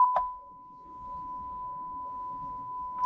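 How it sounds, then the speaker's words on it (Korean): A steady reference test tone beep from video editing software, the kind used for broadcast calibration and bleeping out words, holds one constant pitch for about three seconds with faint background noise beneath it. "오디오 경우는 요거 삐 소리 하는 거 있죠"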